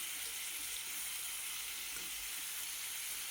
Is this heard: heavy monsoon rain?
no